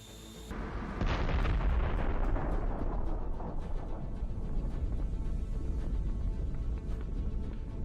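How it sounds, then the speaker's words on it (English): A sudden loud explosion from a precision strike on a tank erupts after a brief moment, followed by a long, heavy rumbling roar with crackling debris that persists for several seconds. "after which we see an incredible explosion."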